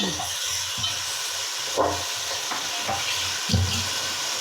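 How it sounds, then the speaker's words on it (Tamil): Green chillies and tomato sautéing in a pan, a close sizzle with repeated scraping stir strokes in an uneven rhythm, moderately loud with no talking. "பச்சை மிளகா போட்டு இதை நல்லா வதக்கணும்"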